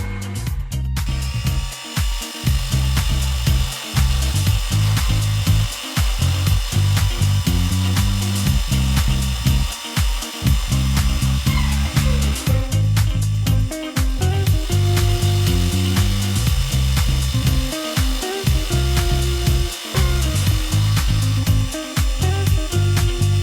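Small milling machine cutting metal at a fairly fast feed with a Spindexer setup, giving a loud, continuous grinding whine with rough, chattering texture and brief dips as the cutter struggles to clear chips.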